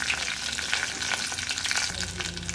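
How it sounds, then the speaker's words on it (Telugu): Curry leaves stirred into hot oil in a pan, crackling and sizzling loudly and continuously, with quick spattering pops and light stirring, no talking. "కొద్దిగా కరివేపాకు వేసి ఇలా కలుపుకొని తగినంత ఫస్ట్ యాడ్ చేసుకోవాలి"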